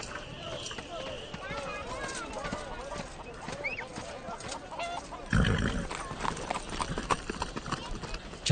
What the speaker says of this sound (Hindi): सुनो सुनो, तुम्हें घोड़ा कहाँ से मिला?